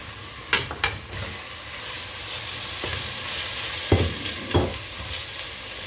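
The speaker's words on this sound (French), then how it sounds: "On va laisser frire tout ça la viande" Meat frying in a pan with garlic for an Indian dish gives a steady close sizzle, broken by a few louder stirring scrapes and bursts, with no talking.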